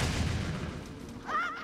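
A bomb goes off with a deep low boom in The Legend of Zelda: The Wind Waker HD, rumbling for about a second before a bright rising chime sounds near the end.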